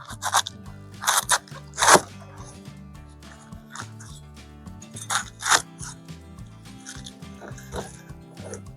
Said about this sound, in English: the easiest way to shred it is first cut it in half